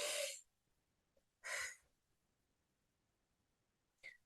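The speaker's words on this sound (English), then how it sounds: "Literally, take a deep breath with me." A person takes slow, deep breaths, two long airy inhales close to the microphone separated by quiet, then a short faint breath at the end.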